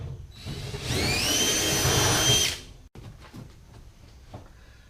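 A drill whines loudly for about two seconds while opening a temporary hole in a console for a 3/16 pop rivet, then stops abruptly. Faint workshop noise follows.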